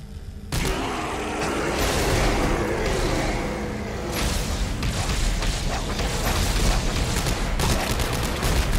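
Rapid bursts of gunfire and booming impacts from Dead Space 3 come in dense, repeated volleys after a short quiet start, loud and close with mechanical clanks mixed in.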